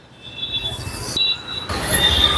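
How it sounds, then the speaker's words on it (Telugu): A Hyderabad metro train runs on the elevated track overhead, its wheels squealing in thin high tones over a rolling rumble that grows louder and nearer across a couple of seconds. "మెట్రో చూడండి, ఆ పైన ఏమో ఎల్బీ నగర్ పోయేది, ఎల్బీ నగర్ టు మియాపూర్"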